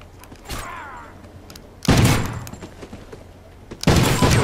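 Shotgun blasts in a video game land as three loud, separate booming shots, each a second or two apart and trailing into a short echo, with no talk.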